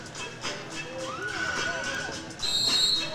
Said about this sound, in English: blows his whistle